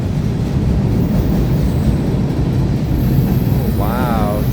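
Conrail freight train rolling past close by, a loud continuous low rumble and rattle of wagons, with a brief high horn-like tone near the end and people talking over it.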